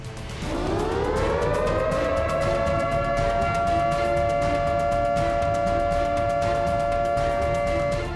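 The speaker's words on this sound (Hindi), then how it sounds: "इसके बाद वो रेंज और निशाने पर लिए गए इलाके की दिशा की जांच करता है और वार्निंग सायरन बजाता है।" An air raid warning siren winds up and holds a loud, steady wailing tone, continuous throughout with no talking.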